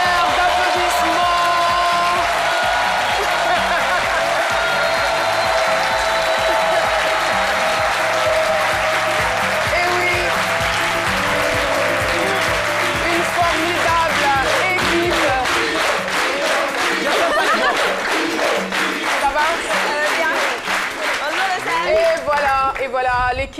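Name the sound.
applause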